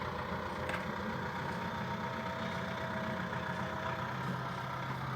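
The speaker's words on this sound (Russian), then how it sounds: "О, трактор. Да, трактор." A tractor engine runs at a steady idle during a snowstorm, its low rumble continuous and fairly loud against the blowing wind, with no one speaking.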